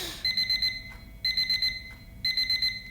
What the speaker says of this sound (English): So now it's beeping rapidly.